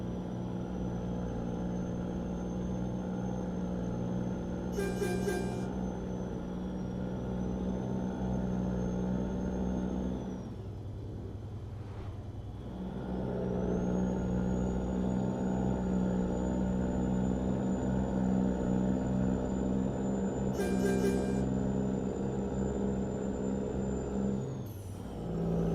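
A Mack truck with a Cummins N14 engine in American Truck Simulator drones steadily with a deep, continuous engine rumble and a high whine, broken by two brief hissing air-brake bursts and a short dip in engine sound midway.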